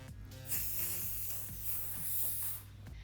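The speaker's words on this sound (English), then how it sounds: "just pop a little bit of hairspray on the front just to make sure all the curls stay where they should" Hairspray is misted onto the front of curled hair in a 1950s poodle style, a close, loud continuous hiss from a spray can lasting a couple of seconds, with a short pause and a brief final puff.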